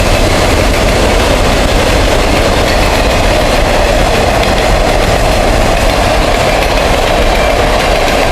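A train passes over a trestle in a loud, continuous, close rumble with a dense roar of wheels and engine that never lets up.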